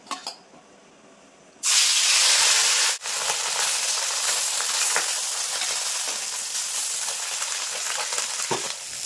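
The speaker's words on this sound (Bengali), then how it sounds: "এই সাইডে মাছ ভাজা হতে থাক" Small puti fish frying in hot mustard oil, a sudden loud hiss and sizzle as they go in, then a dense, steady crackle that continues close and strong, with a brief dip and occasional pops.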